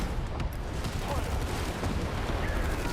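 Gunfire from units in the real-time strategy game Tempest Rising (Tempest Dynasty faction), a dense, continuous crackle of shots and booms with game voice lines underneath.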